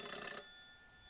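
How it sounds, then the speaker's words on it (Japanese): In the video game Shin Kamaitachi no Yoru, a telephone bell rings in a short bright burst, then cuts to a fading electronic tail and near quiet. "電話は鳴り続けている。"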